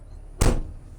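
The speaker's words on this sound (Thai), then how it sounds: "ขออนุญาตปิดประตูครับ" A Kobelco SK200-8 excavator cab door shuts once with a short, solid thud, close by and alone, followed by quiet cab interior.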